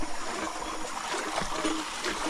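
Creek water flowing into the settling chamber of a Gilman ram pump structure, a soft continuous trickling and gurgling wash, steady and fairly close, with no talk.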